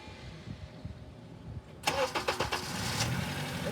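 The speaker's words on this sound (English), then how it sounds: "let me start the scope and start the car" A car engine cranks after a quiet stretch of low workshop noise, with several rhythmic starter pulses, then catches and settles into a steady, close idle.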